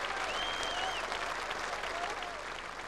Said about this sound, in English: And a standing ovation out for 165.